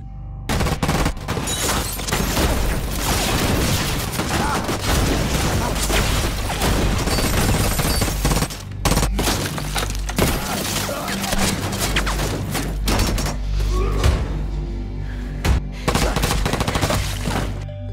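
Gunfire in a film scene of a gang storming a police station in the dark: dense, nearly continuous volleys of shots mixed with booms and crashes, loud throughout with only brief pauses.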